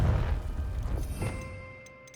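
Confringo blasting spell detonating in Hogwarts Legacy, a single deep boom that rumbles and fades away over a couple of seconds.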